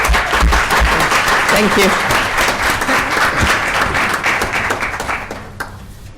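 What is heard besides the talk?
audience applause for Cal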